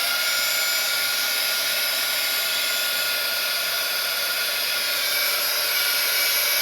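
A hair dryer blows continuously at close range, a steady high-pitched whoosh with no pauses.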